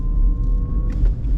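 A 2023 Renault Twingo accelerates gently, its engine giving a close, deep, loud rumble with a faint rising tone, brief and without talk.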